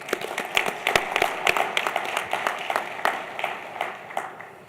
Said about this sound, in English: I'd like to give a round of applause to APTA and RTC for putting on a great show